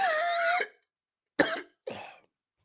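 A person coughs twice in quick succession, close and fairly loud, after a sustained vocal groan, with silence between the bursts.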